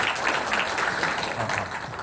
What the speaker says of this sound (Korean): 예, 큰 박수로 환영해 주십시오.